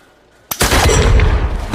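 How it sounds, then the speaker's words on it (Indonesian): A loud gunshot from a film duel cracks suddenly after a quiet moment and leaves a dense, roaring boom and rumbling echo that fills the rest of the moment, with no voices. "Yakov dan Basergen akan saling menembak satu sama lain dengan dinding kertas Jepang sebagai pembatasnya"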